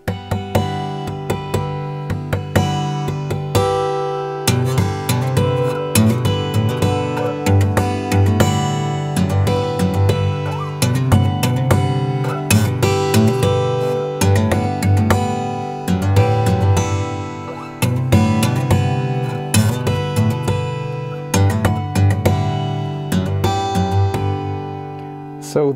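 An acoustic guitar is played fingerstyle with slap harmonics, giving a steady stream of percussive, ringing plucks and chiming overtones in a continuous rhythmic pattern, close and clear.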